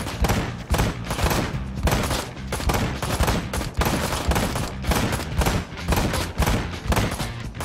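Sustained rapid gunfire in a shooter video game, dense back-to-back shots with a steady loud rhythm running the whole way through and no talking.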